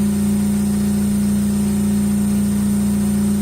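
A Mazda Miata engine running on a Megasquirt idles steadily on its first start, a loud constant drone with a low even hum throughout.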